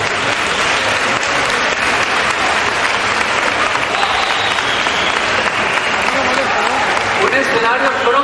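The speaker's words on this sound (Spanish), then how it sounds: "tenemos que dar un fuerte aplauso" Crowd at a fair's opening speech in San Pedro Alcántara gives loud, continuous applause, a thick sustained roar of clapping with cheering voices mixed in throughout.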